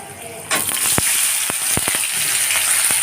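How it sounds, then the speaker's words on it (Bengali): Sliced bitter gourd hits hot oil seasoned with crushed garlic, bay leaf and dried red chillies, bursting into a loud, steady sizzle with sharp crackles and pops close by. "এখন করলাগুলোকে দিয়ে ভেজে নেব"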